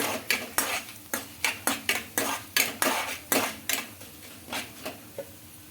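Cumin seeds are stirred in a pan for a drumstick leaf chutney. A metal spoon scrapes and clinks against the pan in a steady rhythm of about fifteen strokes over a faint sizzle, with no talking.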